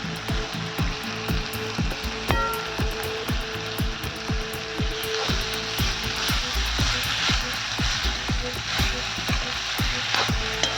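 Tempering sizzling in a pan on a wood-fired chulha stove, with the bhopri greens about to go in: a steady crackling fry with sharp pops and clicks throughout, fairly close, and no talking.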